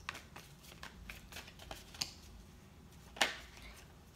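Tarot cards being shuffled by hand: soft repeated riffling and flicking, faint and close, with a couple of sharper snaps.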